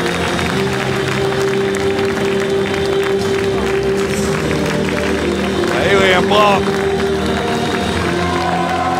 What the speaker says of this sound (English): gonna soak up the applause one more time